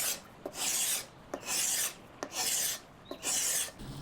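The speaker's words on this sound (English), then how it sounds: "I don't need to be as careful when scraping the top surface here." Scraper rasping across the top surface of an old, worn utilitarian wooden dresser with no veneer, four steady strokes about a second long, each starting with a sharp bite and separated by brief pauses, close and alone.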